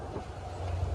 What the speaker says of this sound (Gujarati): ટ્રેન સવારી જાય છે